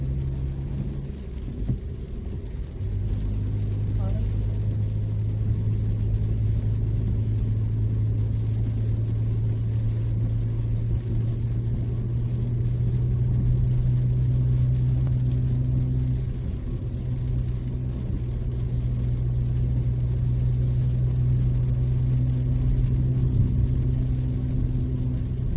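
A Baleno car drives on the Munnar ghat road in Kerala, heard from inside as a steady low engine hum and road rumble that runs unbroken throughout, with the engine tone shifting slightly.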